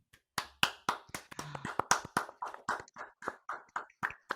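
A few people clap together for someone on a podcast, a run of sharp, close, slightly uneven hand claps that holds a steady rhythm for several seconds with no talking over it.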